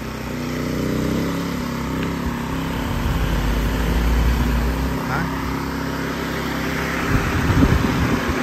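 A Predator 1400 portable generator runs steadily while powering two small fans, its engine drone continuous and fairly loud throughout, with a slight rise in pitch as it idles up near the end.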